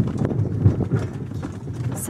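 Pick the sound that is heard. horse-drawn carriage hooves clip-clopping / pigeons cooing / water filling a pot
horse-drawn carriage hooves clip-clopping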